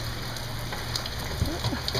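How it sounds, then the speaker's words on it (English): Rain falling, a dense steady patter and hiss with a few louder drips and knocks close by, continuous through the short stretch, no speech. "It's raining outside, but it's raining inside."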